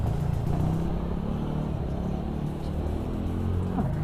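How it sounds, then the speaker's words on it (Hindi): A TVS Ntorq scooter engine with an abnormal sound runs nearby, giving a steady, unbroken rumbling drone with faint clatter throughout and no talk over it. "जो इंजन का साउंड हो रहा है चला के देखेंगे।"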